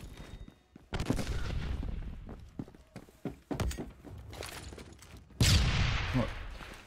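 K2 assault rifle fire in the video game Phantom Forces: loud, close bursts of automatic shots, the heaviest near the end, with quieter footsteps and game noise between them.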